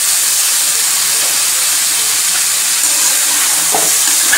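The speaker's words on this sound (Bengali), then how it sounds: "এবার আমি ইঁচড়টাকে ঢেলে দেব" Marinated green jackfruit tips into hot, sizzling spice masala for a yogurt jackfruit curry, producing a loud, continuous steamy hiss that stays steady throughout, heard close with no talking.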